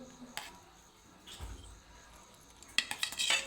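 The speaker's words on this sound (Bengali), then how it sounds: "ভেঙে দিয়েছি আলুগুলোকে" Boiled potatoes being mashed and broken up in a pot, with a few soft close scrapes and metallic clinks of the utensil against the pot, fairly quiet, and a brighter clatter near the end.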